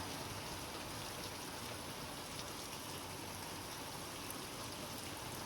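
Steady morning rain falls in a Gujarati village, a dense, even hiss of drops on surfaces that continues without pause from start to finish.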